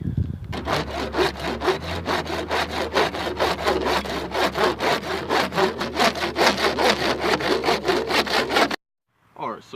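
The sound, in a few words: hand sawing PVC pipe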